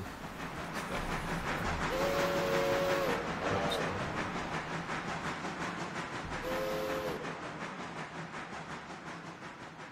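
A steam locomotive's three-chime whistle in the Railroader video game sounds twice, a long blast then a shorter one, over the steady rhythmic chuffing and rolling of the train.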